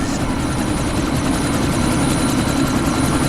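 A helicopter in the video game Deus Ex: Mankind Divided drones with a steady, loud rotor thrum and engine whine, holding constant throughout with no one talking.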